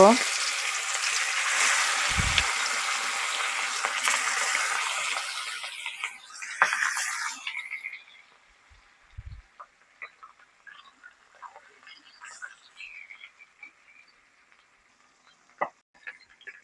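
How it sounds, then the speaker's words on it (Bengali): Pangas fish pieces coated in spices drop into hot oil and hiss with a loud, dense sizzle for several seconds, then the frying fades to faint crackles and scattered small clicks. "এখন আমি তেলের পরে ছেড়ে দিব এখন আমি মাছগুলো ছেড়ে দিব"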